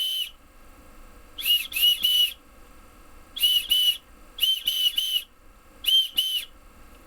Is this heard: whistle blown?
yes